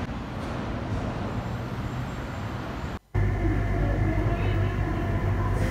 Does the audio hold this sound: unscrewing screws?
no